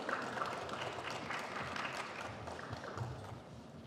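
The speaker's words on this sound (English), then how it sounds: "a big round of applause for the panel and Mr. Kamal Masroor." Audience applause for a panel at a digital technology summit, a faint, steady wash of many hands clapping that carries through the whole stretch without pause.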